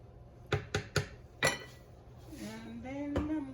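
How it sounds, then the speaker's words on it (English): Chicken rice porridge stirred in a pot: a few sharp metal clinks of a spoon against the pot, then a soft scraping stir with a faint rising tone. "I'm gonna start stirring."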